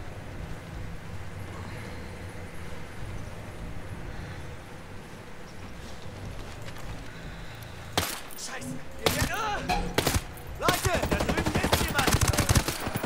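Sniper rifle shots in the tactical shooter Ghost Recon Breakpoint, loud sharp cracks starting partway through, several spaced reports over a steady in-game ambient bed.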